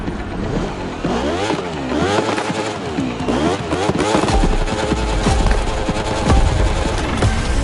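A racing vehicle in The Crew Motorfest's Red Bull Speed Clash screams through repeated gear shifts, its engine pitch climbing and dropping in quick sweeps, loud and close over a constant roar.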